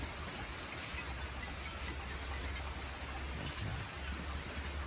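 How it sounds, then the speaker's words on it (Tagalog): Steady rain hisses down over an eggplant field at harvest time, a continuous even wash of falling drops with no voices. "umano na yung ulan mga kagulay"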